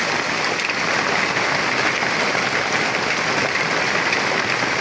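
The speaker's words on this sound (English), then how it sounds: "it started raining big." Heavy rain pours steadily in Enugu, a dense, even hiss of drops hitting surfaces that holds at the same loud level throughout with no talking.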